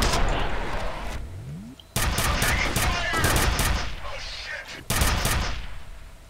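Gunfire from a heavy-recoil gun in the shooter game F.E.A.R., with loud bursts of rapid shots in several volleys, crackling impacts and debris between them.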